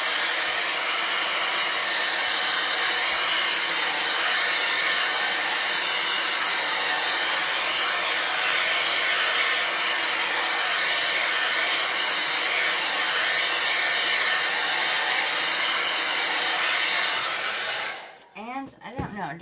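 A hair dryer blows steadily and loudly on chalk paste applied to a surface, a continuous close whoosh for most of the clip before it shuts off with a short handling clatter.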